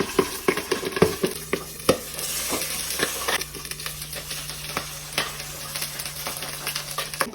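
Tofu sizzles and crackles in a frying pan, a steady close hiss broken by repeated sharp clicks and taps of a utensil stirring and turning the pieces, with no talking.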